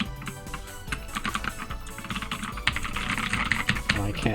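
Quick, clattering keystrokes on a computer keyboard used as a controller while playing KoF XV, running steadily over loud fighting-game music and effects.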